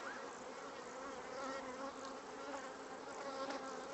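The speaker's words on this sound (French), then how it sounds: "C'est bourré d'abeilles." Honeybees buzz in an open beehive in Haute-Loire, France, forming a dense, continuous, close hum with shifting individual drones throughout and no voices.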